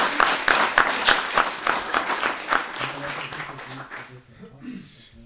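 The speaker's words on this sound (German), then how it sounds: "aber erstmal ein kleiner Applaus für die beiden" An audience at a sustainability talk claps for two people, a brisk patter of many hands. It is fairly loud, then thins and fades out after about four seconds.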